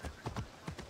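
Horse hooves clip-clopping in Assassin's Creed Odyssey, a few quiet, evenly spaced thuds of a horse moving over ground, with no voices.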